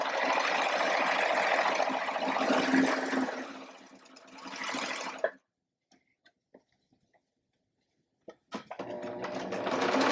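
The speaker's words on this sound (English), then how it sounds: "I'm going to stitch all 4 sides of this layer cake" A serger stitches along the edges of layer cake fabric squares for a quilting project, running in a steady loud whir for about five seconds, then stopping to a few faint clicks before whirring again.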